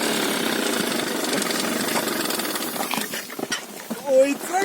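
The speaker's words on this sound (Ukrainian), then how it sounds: "Дивіться, як скутер заглушиться." A small scooter engine idles with a steady, rough chugging, then sputters and stalls near the end, leaving voices talking close by.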